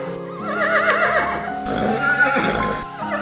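A donkey braying loudly in a children's animated moral story, rendered as a long horse-like whinnying cry over the full length with faint hoof-like clopping, no talk.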